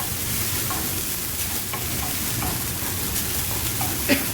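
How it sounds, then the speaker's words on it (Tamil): Grated coconut roasting in a pan, a soft, even hiss with faint scattered scraping taps from stirring, one sharper knock near the end, no talking. "பாதி தேங்காயை போட்டு வறுக்கணும். அது நல்லா செவக்க வறுத்துவோங்க."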